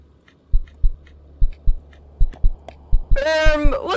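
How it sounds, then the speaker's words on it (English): A heartbeat plays in the video game KinitoPet: paired low thumps repeat steadily, close and clear over a faint hum, before a brief swooping electronic tone cuts in at the end. "Why is there heartbeat?"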